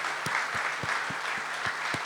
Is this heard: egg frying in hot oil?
no